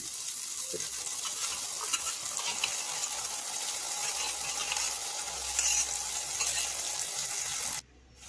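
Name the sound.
spiced yogurt mixture added to pan and stirred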